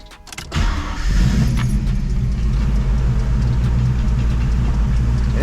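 Fox body Mustang with a T5 manual gearbox, its engine running at a steady loud idle while the shifter buzzes and rattles, starting abruptly after a brief clunk.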